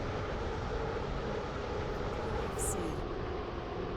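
A video game train runs on the railway route to Stepford UFC, its broadband rumble steady and close throughout, with a brief higher tone partway through.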